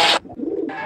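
Rajshahi Giribaz pigeons give a low, soft coo close by, bracketed by brief bursts of hissy broadband noise at the start and end of the short moment.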